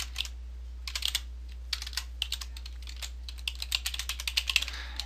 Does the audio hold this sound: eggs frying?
no